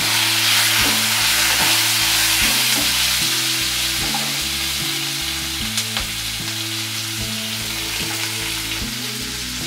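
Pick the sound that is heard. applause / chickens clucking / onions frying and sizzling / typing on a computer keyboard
onions frying and sizzling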